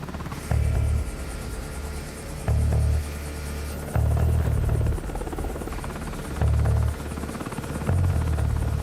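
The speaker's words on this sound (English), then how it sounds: "The pilots crank up their engines" Military helicopter engines cranking up for an assault team boarding, a heavy low rumble with rhythmic pulsing throbs repeating every second or two, loud and steady throughout.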